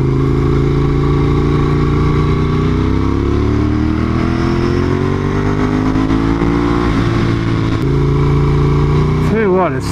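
A 1998 Ducati 916 SPS motorcycle ridden along a dirty road: a loud, steady engine drone with strong layered harmonics, its pitch slowly rising and falling with the throttle, close and continuous throughout.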